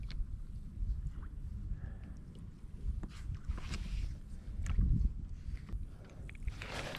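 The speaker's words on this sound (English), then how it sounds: "But we're paddling up in here." A kayak paddled up a tidal inlet on an incoming tide, with low splashing strokes and water wash moving steadily beneath light wind noise, a fuller swell of sloshing near the middle, no talking.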